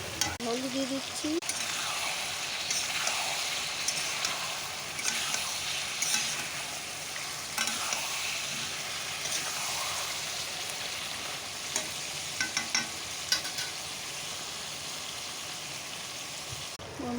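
Potatoes and onions frying in a pan with turmeric, a continuous soft sizzle across the whole stretch, broken by scattered scraping clicks of stirring.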